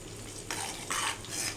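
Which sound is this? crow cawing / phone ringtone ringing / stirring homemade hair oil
stirring homemade hair oil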